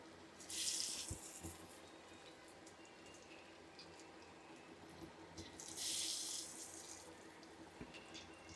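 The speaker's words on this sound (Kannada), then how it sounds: "ಎಣ್ಣೆ ಬಿಸಿಯಾಗಿದೆ. ಈಗ ಒಂದೊಂದೇ ಅಂಜಲನ್ನು ಬಿಡುವ." Pieces of kingfish (anjal) frying in hot oil on a tava make a steady, quiet sizzle with two louder bursts of crackling spatter, no talking.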